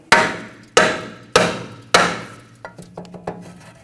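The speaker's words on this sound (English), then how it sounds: "If it's stuck on there, you want to just tap it with a hammer." Four sharp, ringing metallic hammer strikes at a steady pace on a stuck rear brake rotor of a 2007-2013 BMW X5, then a run of lighter, quicker taps, all close and with no talking.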